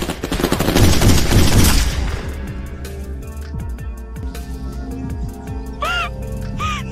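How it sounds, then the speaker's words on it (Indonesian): Gunfire crackles in a dense, loud burst of rapid shots during a movie shootout between police and a gang syndicate, then thins to scattered single shots with ringing echoes, while a couple of sharp high cries come near the end. "terjadilah aksi tembak-tembakan antara polisi dengan para sindikat dan anak buahnya Milena."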